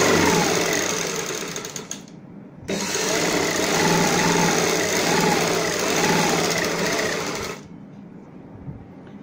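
A sewing machine stitches a half-inch hem along a palazzo pant bottom, running steadily and loud for several seconds, with a brief pause and restart near the start and a stop near the end, close with no talk.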